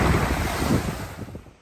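Waves washing in over a rocky beach, a continuous rushing surge with strong wind noise on the microphone, loud and close, fading slightly at the end.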